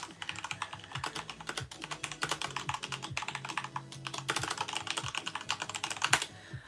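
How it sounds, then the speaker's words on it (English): Steady typing on a computer keyboard, a continuous stream of close, crisp key clicks with uneven rhythm and occasional heavier strokes, no voices. "I'm going to type that here."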